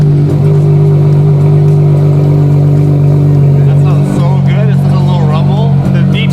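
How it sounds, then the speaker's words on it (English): A front-mounted Ferrari V12 drones at a steady, loud idle hum, then rises in a brief rev toward the end, with voices talking over it. "So this car currently has a V12 front mounted engine."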